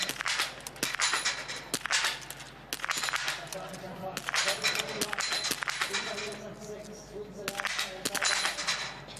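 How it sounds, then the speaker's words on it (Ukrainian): Sharp biathlon rifle shots crack at irregular intervals at a World Cup single mixed relay in Östersund, several in a row, over a steady crowd murmur and a commentator talking. "Повільніше стріляє, бачимо, Марі Дорена Бер, швидше прийшла на вогневий"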